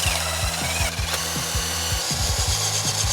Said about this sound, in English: We apply penetrant and clean off the rust.